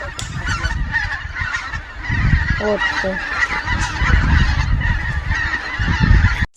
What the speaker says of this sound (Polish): bardzo głośno gęgały